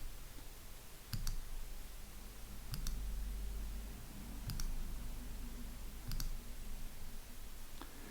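Computer mouse clicks while confirming OK in InDesign 2022 come as four evenly spaced double clicks, quiet and crisp over a low steady background hum.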